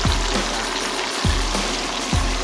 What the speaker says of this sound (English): Onions into that oil where the fish has been fried.